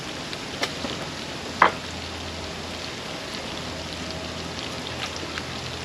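Peppers and onions sautéing slowly in a pan over an open fire, a soft steady sizzle that stays low and even, broken by one sharp click.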